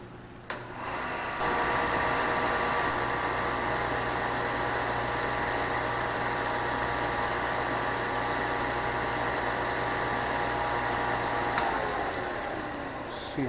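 A power sander runs steadily at close range after a brief click at startup, holding a constant humming whine with a buzzy vibration for about ten seconds before spinning down, with no talking over it.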